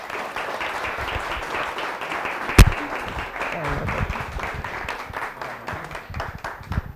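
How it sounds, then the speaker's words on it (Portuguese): Audience applause for speakers at a talk on Bitcoin, a moderately loud, even wash of clapping with a single sharp knock partway through, continuing steadily to the end. "Salve de palmas para os palestrantes."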